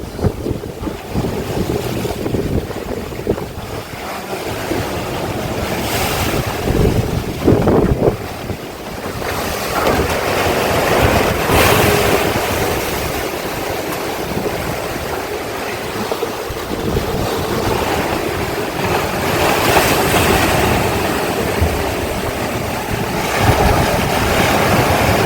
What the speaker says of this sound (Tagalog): Ganito yung alon kagabi mga kaibigan. Grabing lakas at nakahangin.